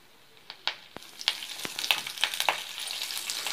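Curry leaves crackle as they hit hot oil with browned peanuts and chana dal, a quiet start building to bursts of sharp pops and spatters over a rising sizzle.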